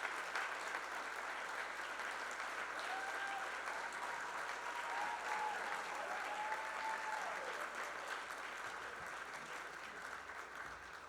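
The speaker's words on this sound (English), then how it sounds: "I would ask all of you to applaud" Sustained applause fills a room at a chamber of commerce gala, a dense even wash of clapping from a large seated audience lasting about eleven seconds, with a faint voice at moments.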